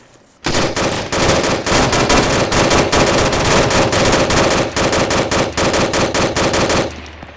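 Sustained automatic gunfire in a close firefight by a Spetsnaz squad on an island between two hangars, with loud rapid bursts running almost continuously for about six seconds before cutting off.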